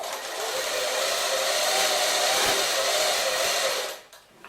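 Sewing machine stitching the seam of a gathered chudidhar, a steady continuous whirring buzz held for about four seconds before stopping abruptly.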